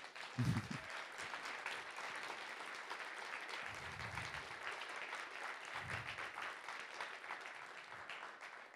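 An audience at a talk applauds illustrator David Revoix, a continuous wash of clapping from a crowd heard at moderate distance, with a couple of low bumps in the background.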